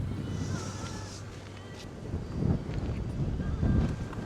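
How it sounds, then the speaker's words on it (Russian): Strong wind buffets the microphone on a cold mountain pass roadside, producing a low, rumbling roar with gusts that swell and fade. It runs for a few seconds with no speech. "Ветрено, ветрено."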